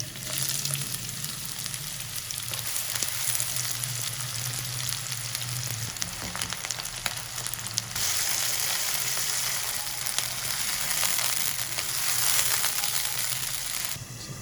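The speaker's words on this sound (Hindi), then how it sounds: "देखिए हमारा कीमा फ्राई हो गया।" Minced meat keema sizzles and fries steadily in a pan for chicken keema matar with methi, a continuous dense crackle at close range, with occasional stirring scrapes and no talk.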